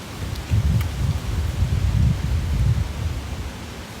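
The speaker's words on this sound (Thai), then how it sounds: "โคราชก็ลมแรงมากๆอ่า" Strong wind gusting outdoors in Korat, a loud low rumbling roar with buffeting surges across the whole stretch, no voices heard.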